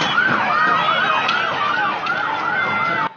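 A Red Cross ambulance siren wails during street protests in Quito, a loud, close, rapidly oscillating yelp sweeping up and down continuously before cutting off abruptly.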